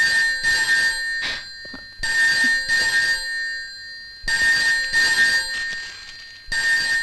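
A telephone rings in a police station film scene, with loud electronic trill bursts repeating in a steady ring-pause rhythm, about six rings with short gaps, close and with no talking.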